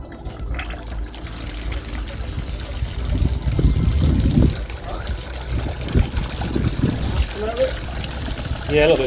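Hose water rushes and splashes through the engine of a Reliant Regal Supervan being converted back to petrol, a steady broadband wash with a few louder surges, close by.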